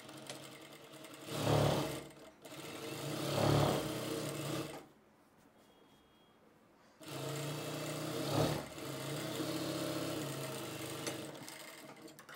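An electric sewing machine stitches fabric for a coat-collar blouse in close, loud running bursts with a brief pause between them, then a longer steady run after a quiet gap of about two seconds.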